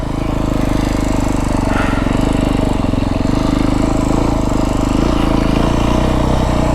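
A Beta 350 X-pro dirt bike ridden on a trail in the mountains of southern Arizona, its engine a loud, constant close buzz with slight shifts in pitch throughout and no talk.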